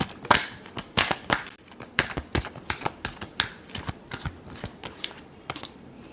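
Tarot cards are shuffled up close in a quick, uneven series of crisp snapping riffles and taps, each burst short and sharp, with no talking.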